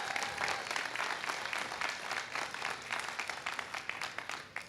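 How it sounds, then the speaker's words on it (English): An audience at an airport celebration claps in a sustained round of applause, dense and even at first, then thinning into scattered individual claps as it fades. "Let's give them all a round of applause."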